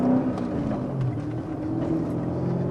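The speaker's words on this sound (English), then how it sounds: "you can't beat a rumbling, growling V8" BMW E39 M5 with its V8 engine, a low steady rumble at moderate volume with a slight rise near the start, heard alone without talk.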